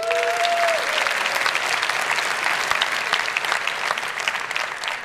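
A conference audience in London applauds a speaker taking the stage for a talk on unit testing Vue components, a full, even round of clapping that holds steady throughout with a brief tone at the start.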